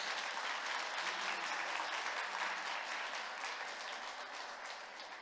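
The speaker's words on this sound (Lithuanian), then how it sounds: "Tai prašau tais aplodismentais pasitikti profesorių Regimą." Audience applause greets a professor arriving as a guest for a talk on burnout, a steady dense wash of many hands clapping that holds at an even level for about five seconds and eases slightly at the end.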